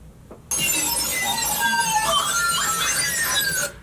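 A dense, chaotic computer-explosion sound effect built from many layered elements, a loud shattering wash with sliding tones and glassy debris that starts abruptly and runs steadily for about three seconds before cutting off.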